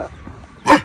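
A dog on a farm lets out one short, fairly loud bark near the end, preceded by quiet background sound.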